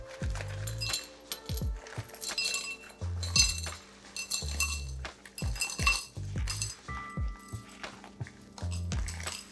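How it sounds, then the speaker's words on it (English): Crushed ice is scooped and poured into a Collins glass, producing bright clinking and rattling in irregular bursts, close and crisp, with dull thumps of the scoop between fills. "we're gonna get our Collins glass and we're just gonna fill it with some crushed ice"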